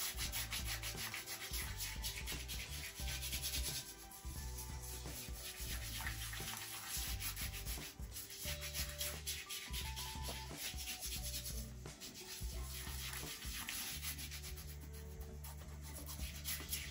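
A Meissner Tremonia Dark Lime shaving soap rubbed onto the face, a close, faint scrubbing sound in repeated strokes of about a second each, with soft squelchy friction and no talking.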